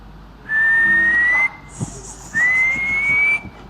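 Two long, steady whistled notes, each rising slightly in pitch, with a short pause between them, clear and close.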